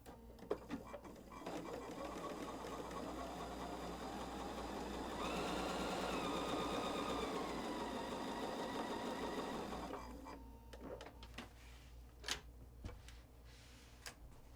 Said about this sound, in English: Let's go sew the 1/4 inch seam